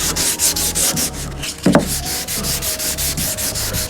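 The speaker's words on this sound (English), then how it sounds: "So now I just need to keep continuing sanding till this thing is flat." Steady back-and-forth scraping of sandpaper on primer over a Hyundai car body panel, close and continuous, with a brief louder scuff midway.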